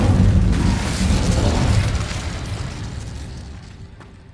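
Incendio fire spell cast in a Hogwarts video game: a loud booming burst of flame right away that rolls on and slowly fades over several seconds, with no voices.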